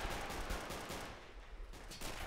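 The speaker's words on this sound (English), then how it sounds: "the gunshots are a little bit louder than me." Rapid bursts of distant video game gunfire crackle continuously, dense and somewhat muffled, like a World War II battle at Argentan playing on in the background.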